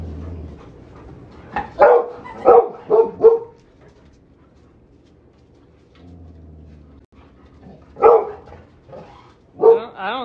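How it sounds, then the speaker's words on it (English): A dog barks at a tiny gecko in frustration, giving a few sharp barks in a quick cluster and then two more after a pause, fairly close and loud against a quiet background. "We've devolved to frustrated barking."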